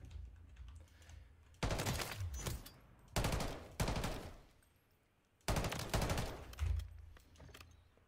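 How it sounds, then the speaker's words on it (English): A civilian semi-automatic rifle converted to fire full auto, heard as several loud, short rapid-fire bursts separated by quieter pauses, close and dominant. "I onda staviš trigger mod i onda puca full auto."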